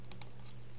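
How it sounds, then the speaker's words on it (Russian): Two quick computer keyboard key presses while game controls are set up in the PCSX2 emulator, crisp and close over a steady low hum. "Я играю на клавиатуре, поэтому кликаем вверх."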